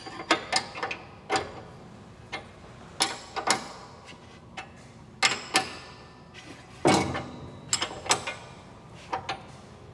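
A seed drill opener assembly being tightened with a tool, producing a scattered series of sharp metallic clicks and ratchet-like snaps up close, irregularly spaced with short pauses, and no talking.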